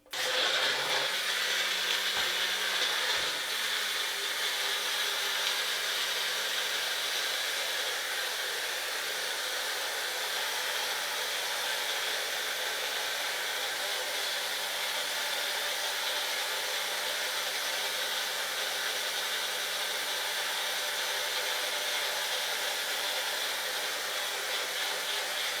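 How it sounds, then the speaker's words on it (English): A kitchen blender runs continuously, whirring Caribbean recipe ingredients with a little water into a steady, fairly quiet hum with a high whine, heard alone for the full length. "And we're gonna blend this amount right here."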